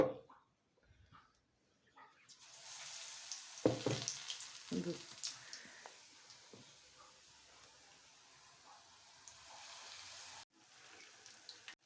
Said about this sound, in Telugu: ఈ అరటికాయ ముక్కల్ని ఇలా పిండిలో ముంచి బజ్జీల్లా వేసుకోవాలి